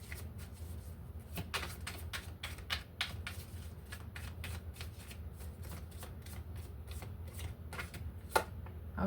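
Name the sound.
tarot card deck being shuffled and cut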